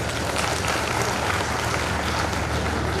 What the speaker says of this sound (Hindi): यदि आप सहमत हो तो ताली बजा के इसका स्वागत करें।